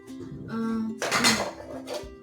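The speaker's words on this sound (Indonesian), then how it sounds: "Sini sudah ada tasnya, ada sendok garpu ini sama sumpitnya." A travel set of spoon, fork and chopsticks being handled in its carry case, a few light clinks and rattles of utensils with soft rustling between them, close and fairly quiet.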